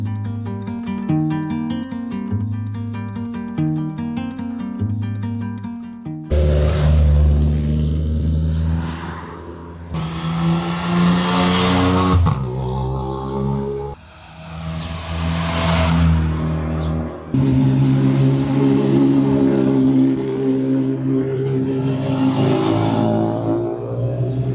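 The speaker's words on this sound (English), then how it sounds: "woke up this morning to the sound of rally cars" Rally cars roar past in a Spanish town in the early morning, engines revving hard in repeated loud surges that rise and fall, with a low idling rumble before the first car passes.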